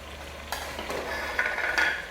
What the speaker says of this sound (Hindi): ये सिर्फ ऑयल में अभी तल रही हूँ मैं